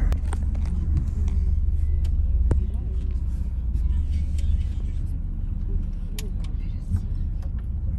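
City bus engine rumbling steadily through streets near the Ukraine–Poland border, heard from inside as a continuous low drone with traffic noise and occasional clicks, no talking.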